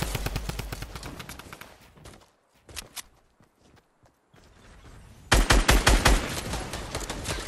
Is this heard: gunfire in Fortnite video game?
yes